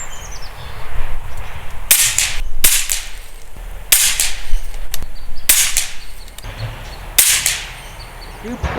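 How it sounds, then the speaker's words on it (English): Five sharp gunshots firing 37 grain .25 caliber ZAN slugs, spaced roughly a second or more apart, loud and crisp against a quiet outdoor background. "let's start off with the 37 grain 25 cal Zan Slugs. I'm going to take 5 shots"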